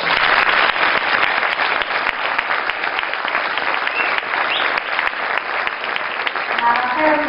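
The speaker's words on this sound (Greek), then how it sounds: "Θα ήθελα να χειροκροτήσουμε τους μαθητές που πήραν μέρος." An audience applauds the participating students at a school music evening, dense, sustained clapping from many hands lasting several seconds at steady strength.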